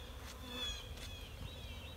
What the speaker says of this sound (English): We'll just shake the bees off here.